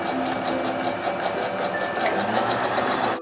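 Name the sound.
sewing machine stitching bike pants seam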